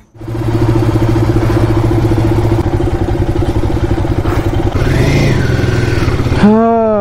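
A Royal Enfield Himalayan 450 motorcycle engine fires up abruptly and settles into a loud, close, rhythmic idle, then revs briefly before cutting off near the end.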